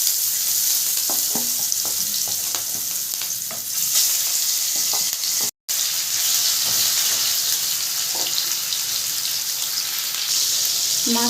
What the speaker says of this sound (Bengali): মাছটা ভাজতে দিয়ে দেবো